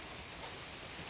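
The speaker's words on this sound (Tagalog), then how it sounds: "Tuloy ang ulan." Steady rain falls continuously, a soft even hiss of drops with no voices, brief and fairly faint.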